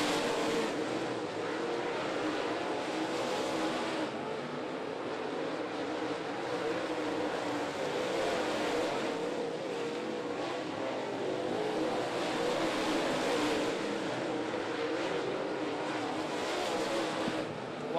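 Race cars lapping a dirt-track qualifying heat at Duck River Raceway Park, a steady loud engine roar that swells and fades as the pack passes, continuous throughout with no talk.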